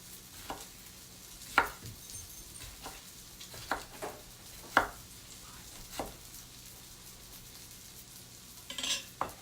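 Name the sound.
slicing tomatoes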